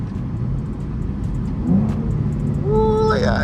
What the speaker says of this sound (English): I had that downshift.